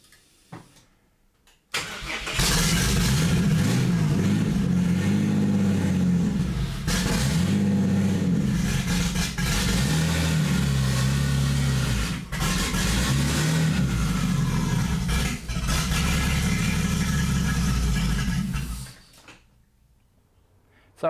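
A car on an E85 tune running rich on 98 fuel starts up and runs loudly for about sixteen seconds with a few revs and dips, a rough, burbling engine note, then shuts off.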